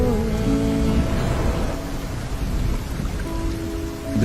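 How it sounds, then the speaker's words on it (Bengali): Heavy rain pouring down, a dense, loud, steady hiss of drops on surfaces with a low rumbling undertone, continuous and without speech. "বৃষ্টি নামল"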